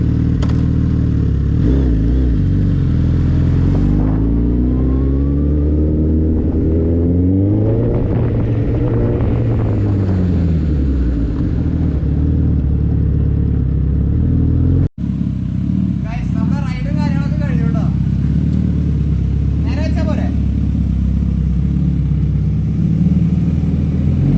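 A Suzuki Hayabusa motorcycle engine revs in first gear, loud and close, with rising and falling harmonic sweeps and throttle blips, under continuous talk throughout.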